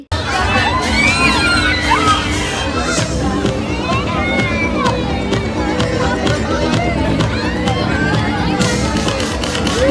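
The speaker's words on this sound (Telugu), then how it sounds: "ఒకసారి ఎట్లా అరుస్తుర్రో మీరు కూడా వినండి" Riders on an amusement park ride at Wonderla in Hyderabad scream and shout together, a loud, continuous crowd of shrieking voices, including children, that never lets up.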